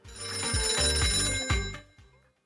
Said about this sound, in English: Danko, we're gonna take one more phone call.